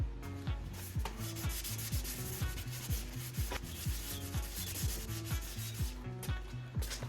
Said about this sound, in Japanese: ボンドが乾いてる間にこういうところをちょっとサンディングして、どのぐらい落ちるのかやってみよう。